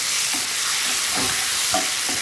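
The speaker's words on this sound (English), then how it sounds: "So I'm just going to break up these tomatoes a little bit as they sort of soften into everything." A wooden spoon scrapes and breaks up softening tomatoes in a hot pan, set over a constant loud sizzle with a few soft knocks and scrapes, close by and without talking.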